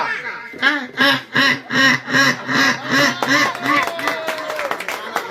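A person vocally imitates a crow's caw during a visit to a care home, voicing a rapid series of about a dozen harsh, nasal calls in steady rhythm, close and fairly loud, with other voices murmuring in the background.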